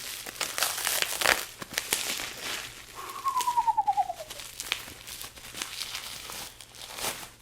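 A Sigma lens package is unwrapped from its bubble wrap, with soft, continuous plastic crinkling and rustling close by, plus a brief whistling chirp in the middle.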